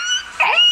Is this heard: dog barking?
yes